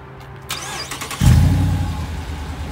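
A 2017 Dodge Charger R/T engine is started by remote start, with a short whine and cranking that catches into a loud, deep rumble before settling to a steady idle nearby.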